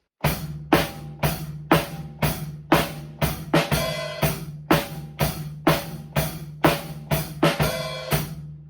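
A steady, upbeat drum groove, with a four-on-the-floor kick on every beat, snare and hi-hat accents layered on top, and a busier fill near the middle.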